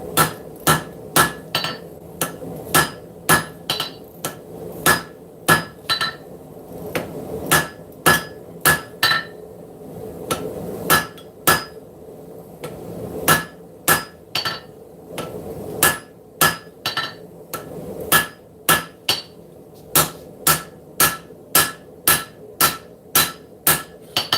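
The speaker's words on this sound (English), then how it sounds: "Hammer on the spine." Hammer blows ring out on the spine of hot forged metal at a notch, dozens of sharp metallic strikes in steady bursts with brief pauses between groups, loud and close with no talking.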